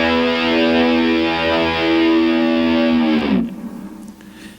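Distorted electric guitar holding a very high harmonic that swells and wavers as the tremolo bar raises it, loud and sustained for about three seconds before dropping away abruptly into a faint ringing tail.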